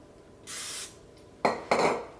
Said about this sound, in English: If you spray it with a little cooking spray, it's going to slip out